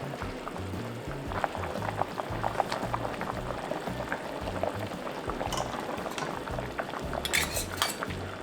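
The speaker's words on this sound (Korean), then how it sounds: "지금 물엿이 50ml 있어가지고 조청 50ml랑 섞어서 넣을게요" Corn syrup and grain syrup going into a pot of braising pigs' feet, heard as a dense bubbling, gurgling simmer with occasional light metallic clinks, close and steady with no voices.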